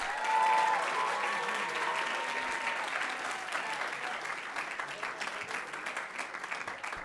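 An audience claps steadily at a marketing class's campaign presentations, honoring the three presenting teams. The applause is dense and sustained, strongest at the start and easing slightly over seven seconds, with no talk over it.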